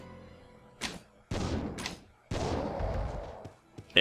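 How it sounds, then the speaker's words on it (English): Explosions in the Resident Evil: Code Veronica video game, several heavy booming bursts in a row with decaying rumbles, loud and close, no talking over them. "but it's an explosion"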